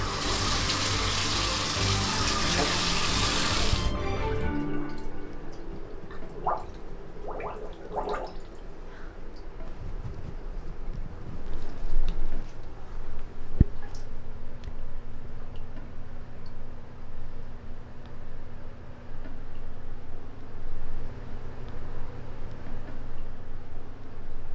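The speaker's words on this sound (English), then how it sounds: "I go over here to the sink. I put this stopper in it, so I start building up water." Water gushes loudly from a tap into a sink with the stopper in for about four seconds, then shuts off, leaving quieter room noise with a few soft knocks and clicks.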